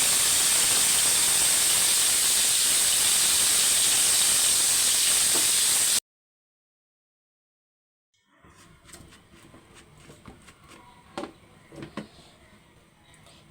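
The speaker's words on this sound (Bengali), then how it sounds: "এই যে নেড়ে চেড়ে ভেজে নেই" Spices fry in a pan with a loud, steady sizzle and hiss for about six seconds, then silence, followed by quieter clatter and scraping as they are stirred.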